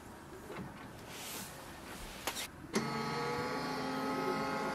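A Canon Pixma MG3600 printer scans a document: after a few soft clicks and shuffles, its scanning motor starts with a clunk and settles into a steady whirring hum close by.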